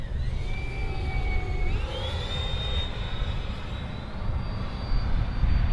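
A Freewing F-22 RC jet plane with a 90mm electric ducted fan flies overhead, its high whine sweeping upward in pitch over a steady rumble of wind and outdoor noise, fairly loud and continuous.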